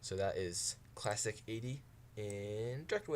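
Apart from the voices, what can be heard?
No everyday noise stands out behind the speech.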